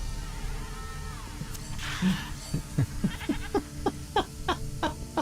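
A video game goat bleats several times in quick succession, bright wavering cries rising over a busy game soundscape with faint background voices.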